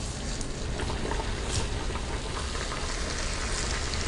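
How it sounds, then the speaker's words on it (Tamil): Murukku deep-frying in hot oil gives a steady, dense sizzle and bubbling hiss, continuous and fairly quiet with no voices. "இப்போ டீப் ஃப்ரை பண்ணிக்கலாம்."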